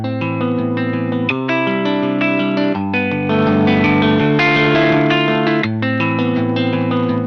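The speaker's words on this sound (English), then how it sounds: "Electric Sunburst features awesome virtual guitar effects including distortion, modulation, mixing, reverb and delay, and amp and cab effects" An electric guitar plays chords and single notes through virtual effects with distortion, modulation, reverb, delay and amp and cab simulation, giving a loud, sustained, layered tone that shifts between sections with no voices.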